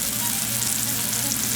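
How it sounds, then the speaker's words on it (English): Steaks searing in hot high smoke point oil give a steady, close, dense sizzle and crackle that holds evenly through the short moment, with no voices. "when you're frying or searing, you wanna have that bubble bouncing and dancing"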